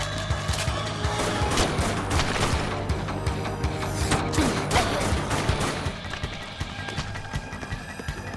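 Rapid rifle gunfire in the zombie shooter Dead Nation, dense bursts of close shots fired in quick succession over a steady game background, easing off toward the end.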